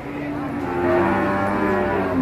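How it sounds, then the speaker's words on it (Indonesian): Cattle at the Jatirogo cattle market in Tuban, one loud close moo stretching out for a couple of seconds over faint market background. "Kondisi pasar sapi Jatirogo"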